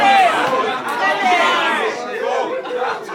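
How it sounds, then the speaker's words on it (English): A rap battle audience cheers and chatters in a steady, loud crowd roar that fills the whole stretch without a break. "I don't know why you're cheering"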